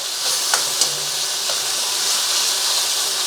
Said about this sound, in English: After you seared it for about 30 seconds or so, then we can turn it and get it going